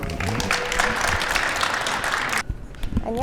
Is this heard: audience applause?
yes